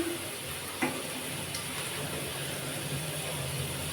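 Chopped capsicum and green chilies fry in a hot pan, giving a steady, even sizzle that hisses on without pause at a moderate, close-up level, with no voices.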